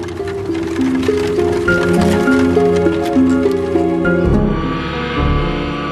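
Horse-drawn tax carriage travelling at dawn toward Daegu, a steady clip-clop of hooves and rolling wheels carrying on throughout, loud and close, with a shift in tone near the end, no talking.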